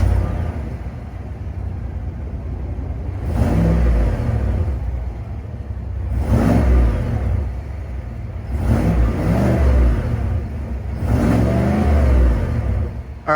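A 2022 GMC Sierra AT4's 6.2-liter V8 rumbles loudly nearby, then gets blipped in four or five rising revs that fall back to a deep idle between them.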